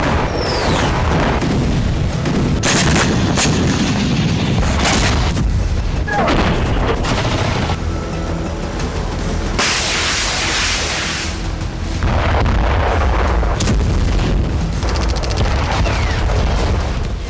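Loud, continuous rumbling blasts and booms, one after another, with a roaring wash of noise between explosions, from a Ukrainian strike on Orsk, Russia.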